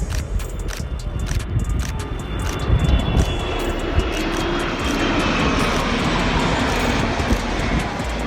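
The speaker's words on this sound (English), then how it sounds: "When the C-17 passed through, making history as the biggest airplane to fly over the course" A Boeing C-17 military transport jet flies low over a valley race course, its broad engine roar building and holding steady as it passes overhead, loud and continuous.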